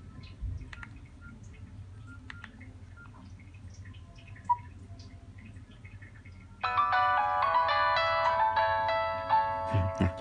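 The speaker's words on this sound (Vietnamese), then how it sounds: "Nhạc chuông truyền thống của máy nghe rất là ok, rất là ấm luôn đó." A Nokia 6680 mobile phone plays its traditional polyphonic ringtone, a bright electronic melody that starts abruptly after several seconds of quiet handling noise and small clicks, then continues loud and close until the end.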